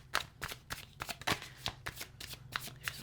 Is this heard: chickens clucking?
no